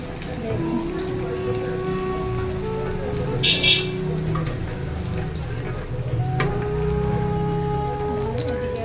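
Rain falls steadily throughout a rainy day, a constant wet patter close by, with faint voices and tonal sounds in the background.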